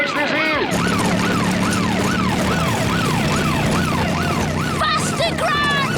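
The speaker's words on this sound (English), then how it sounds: "And now there's a police car." A cartoon police car siren wails in a loud, rapidly rising and falling tone that repeats evenly for several seconds over a busy race scene, with vehicle noise beneath it.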